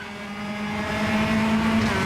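Honda Civic touring car engine in the Automobilista racing game, revving up steadily with a rising, loud drone that holds its pitch near the end, heard close and alone.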